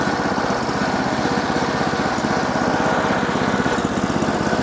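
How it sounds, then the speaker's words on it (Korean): A vine shredder farm machine runs while reversing, its engine chugging loudly and steadily with a fast, even pulsing throb that stays constant throughout. "주행을 끊고 다시 후진을 하게 되면 기계는 후진합니다."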